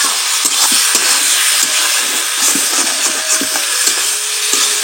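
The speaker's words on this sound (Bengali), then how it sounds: "এখন মশলাটার সাথে ভালো করে ভেজে নেবো আবার" Ground spice paste frying with pieces of fried fish in a pan for a fish curry, a steady close sizzle broken by scraping stirs and light clinks of the spoon against the pan.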